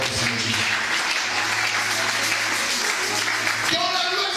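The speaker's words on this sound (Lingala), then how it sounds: "Est-ce qu'on peut acclamer très fort?" A church congregation claps together in loud, sustained applause, with some voices raised over it, and the clapping thins out toward the end.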